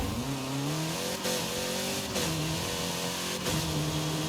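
Car engine revving hard in Forza Horizon 5, with sim steering on, its pitch rising and dropping through three gear shifts, loud and continuous with faint tyre noise.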